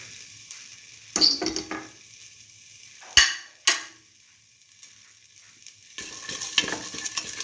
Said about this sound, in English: Saute mix thoroughly.